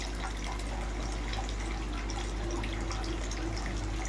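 Water pours steadily into a koi fish pond, a continuous close rushing and trickling over a low background hum.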